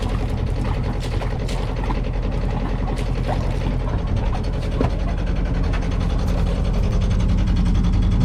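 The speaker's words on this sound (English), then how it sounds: "the engine should be started at least every 14 days to prevent internal corrosion" Inboard engine of a sailboat idling at the dock, a steady close rhythmic diesel-like chug with a constant low rumble and fine mechanical clatter throughout, no talking.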